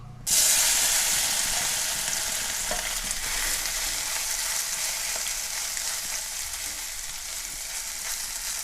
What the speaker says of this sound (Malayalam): ഈ സോയാ ചങ്ക്സ് ഉണ്ടല്ലോ അത് നമുക്ക് ഈ എണ്ണയിലേക്ക് ഒന്ന് ഇട്ട് ചെറുതായിട്ടൊന്ന് വറുത്തെടുക്കാം